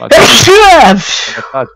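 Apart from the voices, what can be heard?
sneeze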